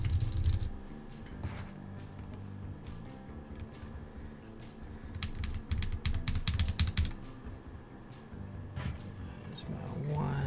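Mechanical Portico 65 keyboard with Kiwi switches clacking, bursts of rapid close key presses densest midway with scattered taps around them, a low hum beneath and soft talking near the start and end.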